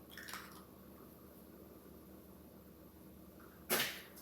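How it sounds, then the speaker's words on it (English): An egg is cracked against a hard edge in a quiet home kitchen: one sharp crack near the end, with a fainter tap earlier, over a low background hum. "We're gonna crack an egg."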